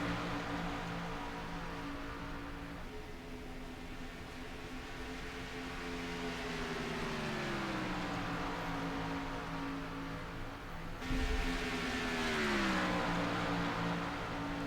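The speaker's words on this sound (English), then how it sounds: "3 cars now just beginning to run down the back straightaway." Race cars roar down the back straightaway at Charlotte, engines droning in long sweeping pitch glides as they pass, with a louder car surging close near the end.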